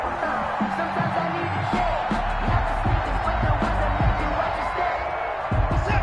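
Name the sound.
football crowd cheering in a PS4 video game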